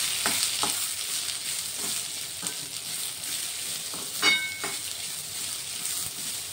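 Moth beans (matki) sizzle while being sautéed in a pan for a home-style Marathi curry. Steady frying hiss runs throughout, broken by intermittent scraping and stirring knocks of a utensil against the pan.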